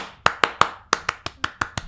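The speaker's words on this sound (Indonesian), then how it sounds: "Berarti 2 kali tepuk pramuka." Indonesian scout rhythmic hand-clap pattern (tepuk pramuka), eight crisp, close claps with a brief pause partway through, played alone in a quiet room.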